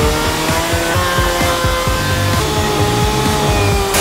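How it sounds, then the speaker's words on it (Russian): A chainsaw roars continuously at close range, its petrol engine buzzing with a harsh, droning tone and slight pitch wavering as it cuts. "При помощи бензопилы."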